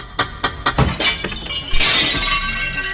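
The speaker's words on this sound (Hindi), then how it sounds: "खिड़की का शीशा चूर चूर होके पूरे कमरे में फैल गया" Window glass shatters loudly and close by, first as several sharp knocking hits in a quick series, then as a big crash whose bright fragments scatter and tinkle away.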